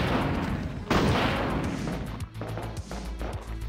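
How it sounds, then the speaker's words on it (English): Explosive gun rounds firing in a Resident Evil 2 mod game: a loud burst of blasts and crashes near the start, then a string of sharper, lighter shots spaced irregularly. "This gun's awesome. It's got explosive rounds, unlimited explosive rounds."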